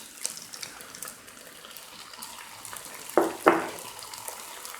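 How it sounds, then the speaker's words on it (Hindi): Chicken chow mein noodles are tossed in a pan over a high flame, with a light background sizzle and a few scraping stirs, two louder near the end. "और अब फ्लेम को मैंने हाई कर दिया है और अब मैं मिक्स कर रही हूँ सबको।"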